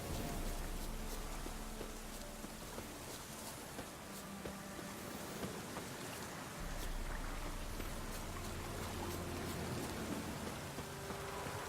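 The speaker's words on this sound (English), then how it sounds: "Puffballs have brought us rain." Steady rain in The Witcher 3: Wild Hunt pours down in a dense, even hiss that continues without a break. No voices are heard.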